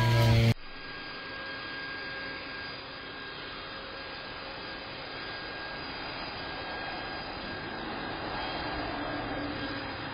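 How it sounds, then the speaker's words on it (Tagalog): A leaf blower runs steadily beside a house, a continuous loud motor roar and broadband air rush that holds evenly throughout after a brief louder burst at the start, with no voices heard. "pinag-blower na ako ni Mario dito sa side"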